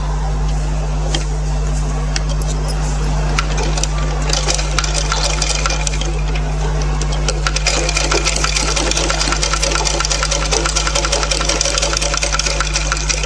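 Sewing machine stitching the hem of a frock, a steady close, loud mechanical rattle of stitching running continuously over a low hum, with a brief pause and restart partway through.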